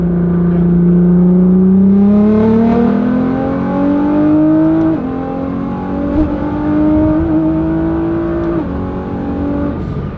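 A Subaru STI hatchback accelerates hard from inside the cabin, its engine note climbing steadily through several gear changes with brief dips at each shift, loud and continuous throughout.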